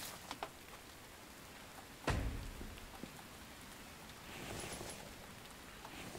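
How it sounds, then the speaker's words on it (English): Steady rain falls in The Infected survival game, a soft continuous patter with a few louder drops and a brief heavier splash, no one speaking. "it is a rainy day"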